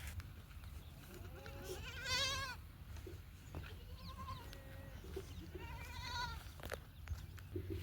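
Goats bleat faintly and at some distance outdoors, with about three separate wavering calls spread over a low rumbling background.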